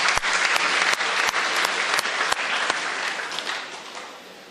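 Applause at a mushaira poetry gathering honouring Rahat Indori in Pune, dense clapping from the audience with sharp individual claps standing out, gradually fading toward the end.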